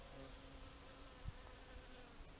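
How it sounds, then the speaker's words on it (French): A bee buzzes faintly on acacia flowers outdoors, a steady low drone over soft background noise with one brief thump. "Petite abeille qui se régale."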